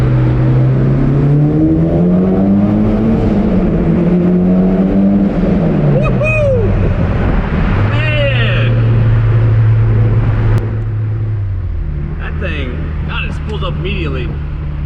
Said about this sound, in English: So I'm gonna do a tunnel pull here.